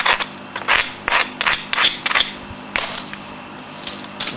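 Flint being knapped by hand, a series of sharp close clicks and cracks of stone striking stone, irregularly spaced with short scraping touches between blows.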